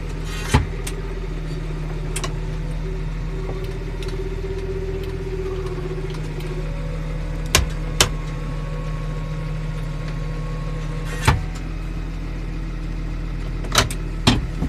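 A New Holland T6.175 tractor engine runs with a steady low drone as it drives into a field, with sharp clicks and knocks from the cab now and then and no talking.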